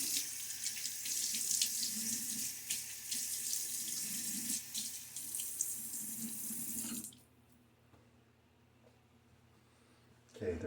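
Water runs steadily from a bathroom tap while a face is wetted before a wet shave, a loud continuous gush that stops abruptly, leaving near silence before a brief final splash.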